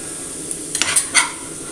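Onion and coriander sautéing in a pan as a spoonful of flour is stirred in, a faint sizzle under a few quick metallic scrapes and clinks of a spoon against the pan, close by.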